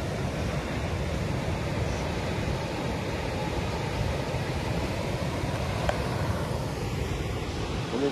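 Sea waves roll continuously along a Sardinian beach, a dense steady roar of surf mixed with wind noise across the whole stretch, with no voices.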